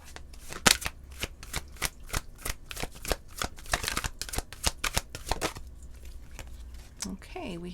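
Tarot cards being shuffled by hand for a Celtic cross reading, a quick run of crisp riffling snaps and flutters in close succession, near and distinct, ending with a brief soft voice.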